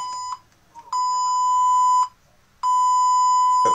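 A PC Specialist Optimus VIII computer with a fault that makes it beep and shut down gives off loud, piercing electronic beeps, two long steady tones separated by short gaps, close and clear with no talk.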